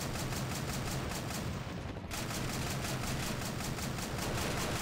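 Sustained, dense machine gun fire in the Red Rising mod game, a continuous rapid hammering burst that runs loud and steady throughout with only a brief dip near the middle.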